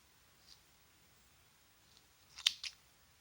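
Scissors snipping through ribbon loops for a Peter Rabbit carrot craft: a few quiet, crisp snips, one faint cut early and a quick double snip near the end, in an otherwise silent room.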